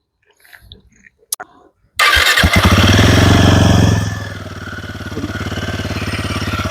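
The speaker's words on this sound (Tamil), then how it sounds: "அப்புறம் எக்ஸாஸ்ட் நோட் வண்டி ஆன் பண்ணி காட்டுறேன், கேளுங்க." A Royal Enfield Himalayan 450 motorcycle is started after a few faint handling clicks, firing loudly into a high burst before settling to a steady, lower idle exhaust rumble close by.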